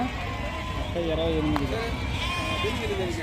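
Sheep bleat at a busy sheep market in Gudur, with several wavering calls rising over steady crowd and traffic noise, some near and some farther off.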